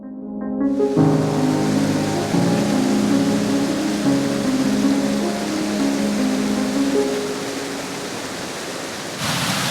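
A waterfall pours in bad weather with rain falling, giving a loud, steady broadband rush close by. A few sustained tonal lines sit in the first seconds before the wash dominates, and it continues unbroken for the whole stretch.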